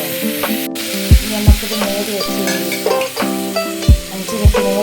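Two tomatoes frying in a pan for an egg curry, a loud close sizzle with repeated sharp scrapes and knocks of a spoon stirring against the pan.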